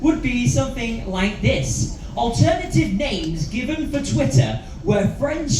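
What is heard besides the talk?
None of the usual background noises is heard.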